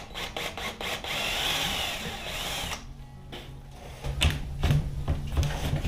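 A power drill bores into drywall in short bursts, a whining buzz that stops, leaves a quiet pause, then comes back with rougher, lower grinding spurts close by.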